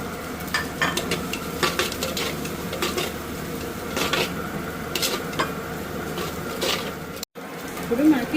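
Ground masala paste and spice powder fry in oil for spicy pot chicken, with a steady sizzle broken by repeated stirring scrapes against the pan. A brief dropout comes near the end.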